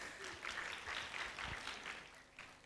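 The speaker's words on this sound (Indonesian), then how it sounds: "boleh kasih tepuk tangan buat Venan." A church congregation claps for a pastor's guest in a short, moderately loud patter of many hands that continues evenly without a clear end.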